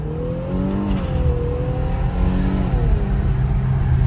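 An Infiniti Q50 accelerates hard on its first test drive after a rebuild, with a loud in-cabin engine drone whose pitch climbs, dips at a shift, then climbs again, steady and without talk.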